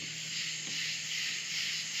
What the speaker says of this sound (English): So, crazy cicadas outside